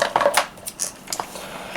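Pieces of paraffin wax are snapped and dropped into a wax warmer, giving a few quick, close clicks and light cracks in an irregular cluster.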